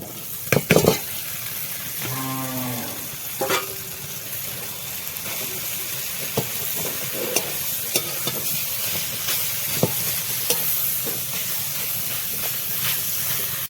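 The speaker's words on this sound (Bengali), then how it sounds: "রসুন পেস্ট করে নিয়েছি দেখো এই যে ভাজা ভাজা হয়ে গেছে এই যে ডাল দিয়ে দিলাম" Lentils fry in a pan with garlic paste under a constant hiss and sizzle, broken by a few clanks and scrapes of stirring near the start and occasional soft taps later; no talking.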